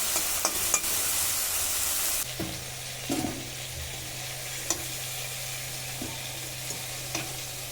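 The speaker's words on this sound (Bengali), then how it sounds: "তেল খুব ভালো করে গরম করে নিয়েছি মাছ ভেজে নেব" Prawns fry in hot mustard oil with a loud, close sizzle that hisses brightly for the first couple of seconds, then settles into a steady lower crackle with a few sharp pops and the occasional clink of stirring.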